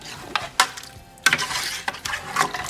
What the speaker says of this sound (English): We're just gonna mix it all in.